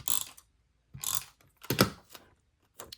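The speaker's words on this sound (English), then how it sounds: "I'm going to take my tape runner and let's just place this along the edges a little bit in the middle" An adhesive tape runner is drawn along the edges of paper, making short, quiet ratcheting clicks and rasps in four or five separate strokes with silent gaps between them.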